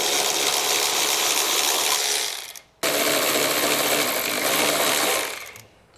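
A power tool whirs steadily while backing out 13mm exhaust bracket bolts on a 2023 Volkswagen Tiguan, two long runs separated by a brief stop, close and loud.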